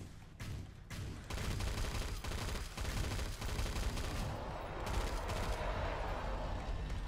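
Dense, continuous automatic gunfire in the video game Killing Floor 2, rapid bursts layered into a loud fusillade that runs almost without pause after a few separate opening shots.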